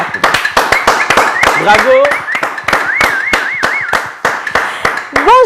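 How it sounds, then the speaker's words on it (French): Studio audience on a TV show clapping loudly and rhythmically for M. Jacques, sharp close claps mixed with a whistle-like warbling tone and a voice calling out. "je veux commencer cette émission avec un banc d'applaudissements pour M. Jacques"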